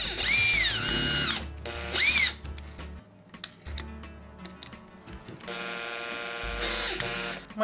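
A Makita BHP452 cordless drill, just reassembled, drives a screw in several loud whirring bursts with pauses between them, then a final burst as the bit spins once the screw is tight; no talking.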